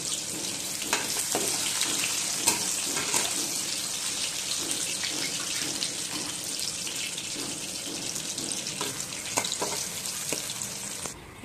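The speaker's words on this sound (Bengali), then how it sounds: "কড়াইতে আমি বেরেস্তার জন্য পেঁয়াজগুলো দিয়ে দিচ্ছি" Sliced onions fry for beresta in hot oil in a kadai, giving a steady, close sizzling hiss throughout with occasional louder crackles and pops.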